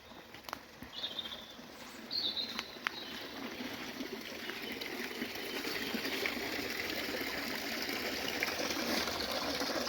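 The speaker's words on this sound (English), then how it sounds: "This is where the water comes in." Spring water flows and trickles steadily into a pond in a quiet outdoor setting, with a few distant bird chirps early on.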